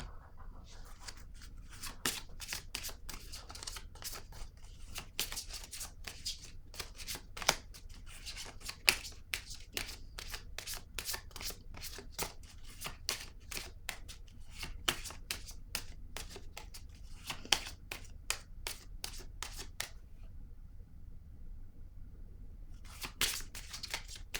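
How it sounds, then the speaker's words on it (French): Cards are shuffled and drawn from a deck close by, giving a long run of quick, crisp riffles and flicks that stop briefly near the end, with no talking. "Je vais piger une carte rose."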